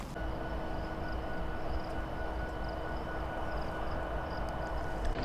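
Freight train at a rail yard idling with a steady, droning low rumble and a sustained mechanical hum, plus a few faint metallic clicks.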